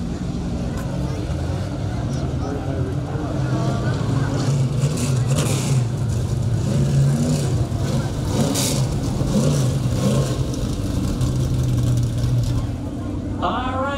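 Two modified race cars, the double-zero and the 88, run a four-lap exhibition dash, their engines a steady loud roar with revving rising and falling throughout, while a voice talks over the noise.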